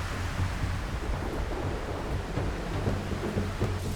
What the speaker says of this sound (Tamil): ஆனால் மழை காட்டு மழையாக பெய்யுது.